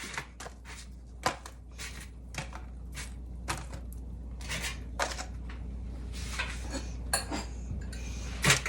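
Cooked onions are scraped from a pan onto a plate, with repeated metal utensil clinks and scrapes against cookware over a low steady hum, close and moderately loud.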